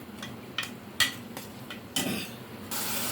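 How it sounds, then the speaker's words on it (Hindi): Ground onion paste is stirred in a pan for mutton karahi, with sharp metallic clinks and scrapes of a spoon against the pan, ending in a steady frying hiss, with no talking. "अब ये थोड़ा सा मैं भूनूंगी इसको, प्याज को।"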